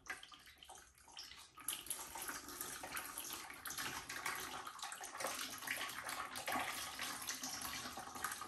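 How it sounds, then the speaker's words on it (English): Ceramic glaze poured over a large salad bowl makes a continuous splashing, running-liquid wash, fairly even and moderately close, with no talking. "So when I pour, hopefully the glaze is going to go in there."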